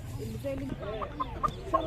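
Free-range chickens cluck and chirp nearby in short, uneven bursts over a low background hum at a poultry market.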